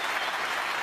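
Snooker crowd applauding at the end of a match, a steady dense wash of clapping that fills the whole moment without any talk over it.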